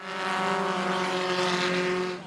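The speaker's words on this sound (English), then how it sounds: "Engines blaring, tires screeching, the smell of car fumes in the wind." Race car engines at a night race on a track, a loud, steady, droning roar that holds for a couple of seconds with no voices.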